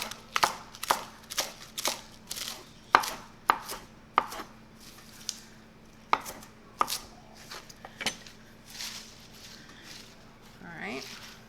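A knife chops pre-washed fresh produce on a cutting board, with a steady series of crisp, close knocks spaced about half a second apart that pause briefly and then resume.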